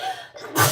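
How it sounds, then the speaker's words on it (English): A single close, loud human sneeze, with a brief indrawn breath and then a sharp burst of air, heard alone. "You see how I blew my sneeze that way?"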